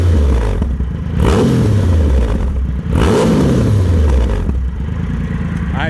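Triumph Rocket 3 GT motorcycle with a 2500 cc triple engine revving hard, loud and close: three rising-and-falling throttle blips climb high then drop back to a rumbling idle between them.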